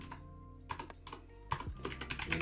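Quiet, close typing on a computer keyboard while writing Django and VueJS code, a rapid uneven run of key clicks with small bursts and brief gaps, no talk.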